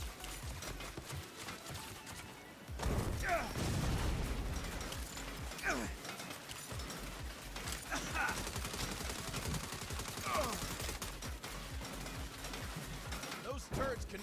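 Turret gunfire in the Saints Row video game, rapid sustained automatic bursts with sharp impacts under game music and loud character dialogue, continuous throughout.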